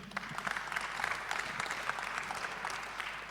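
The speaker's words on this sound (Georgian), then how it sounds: "მე მგონია აპლოდისმენტების ღირსია." Audience applause at a boxing press conference fills the room, a steady wash of many hands clapping that holds for the whole stretch at moderate volume.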